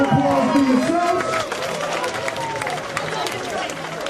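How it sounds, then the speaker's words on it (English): A crowd of about 95 degrees' worth of packed fans at a breakdance event claps and cheers in a loud, steady wash of applause, with voices shouting through it. "So give a big round of applause for yourselves."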